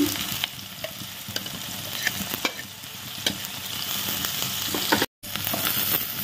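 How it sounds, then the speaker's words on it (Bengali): Onion, garlic and ginger fry in hot oil for restaurant-style chowmein, giving a loud, continuous close-up sizzle with frequent scraping and stirring clatter throughout and no talking. "পেঁয়াজটা দিয়ে দিলাম, রসুনটা দিয়ে দিলাম, আদাটা দিয়ে দিলাম"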